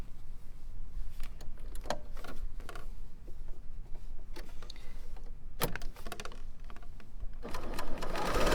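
A Bernina L890 sewing machine stitches in a steady, close whirring run, broken by a few short pauses and clicks, loud and clear with no talking.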